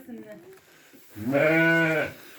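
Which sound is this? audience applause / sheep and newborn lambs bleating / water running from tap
sheep and newborn lambs bleating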